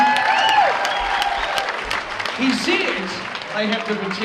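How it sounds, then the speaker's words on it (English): An audience applauds dancers at a hospice dance event, with clapping building under a loud voice and music, fairly close and busy. "give them a round of applause, ladies and gentlemen"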